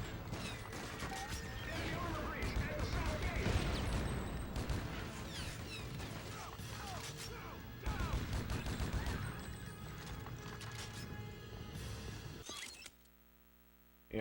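Dense, sustained gunfire rattles from several directions in the shooter Project: Snowblind, with sharp bursts layered over a constant loud wash of battle noise before it cuts off near the end.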